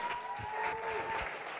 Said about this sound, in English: please escort them with a round of applause